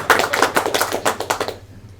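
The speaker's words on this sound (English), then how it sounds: "Give him a round of applause" A small conference audience gives a short burst of applause, a few distinct hand claps that patter close by for about a second and a half before stopping into quiet.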